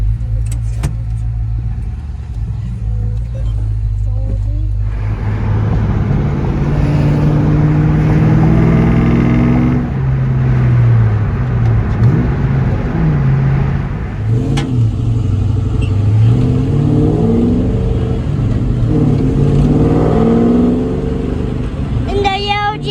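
A Mustang GT engine with a Borla touring cat-back exhaust runs steadily with low rumbling while driving, rising in revs at moments, as people talk over it nearby.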